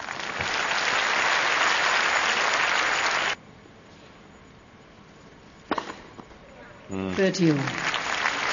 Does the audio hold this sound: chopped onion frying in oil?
no